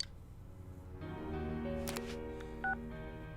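Phone keypad tones from the video game Persona 4 Golden as a call is dialed, a quick sequence of clear beeps over a soft in-game music bed, ending in a brief brighter tone.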